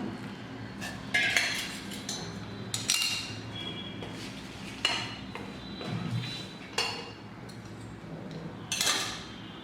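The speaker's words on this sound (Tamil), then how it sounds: "இப்போ மாவில் சுடுதண்ணியை ஊற்றி கிளறுவோம்" A utensil scraping and knocking against a bowl while flour dough for kozhukattai is stirred with hot water, irregular clinks and scrapes at close range with quiet between strokes.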